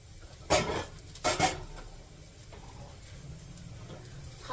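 Dishes, pots and pans are washed at a home kitchen sink. Two short metallic clatters ring out close by, then only a quiet room hum remains.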